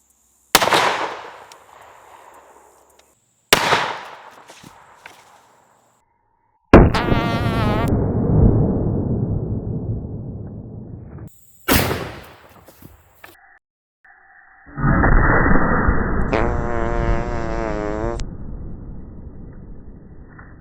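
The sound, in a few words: handgun hand cannon firing Hornady Custom 300 grain FTX rounds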